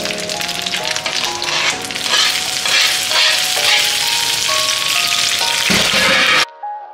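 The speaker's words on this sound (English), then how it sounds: "Got some juicy fried shrimp here that is about to go inside of this garlic." Fried shrimp dropped into a pan of sizzling garlic, giving a loud, steady frying hiss over light background music that cuts off abruptly near the end.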